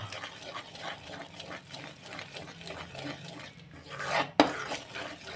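A spoon stirs besan halwa in a metal pan, making a quiet, steady rhythmic scraping of regular strokes, followed by a louder clatter and a sharp knock near the end.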